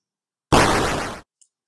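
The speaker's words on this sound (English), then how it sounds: "We also have a sound called hit.mp3, which sounds like this." A hit sound effect from a game's collision demo, heard as one short, loud burst of noise lasting under a second and cutting off sharply, with a tiny faint blip just after it.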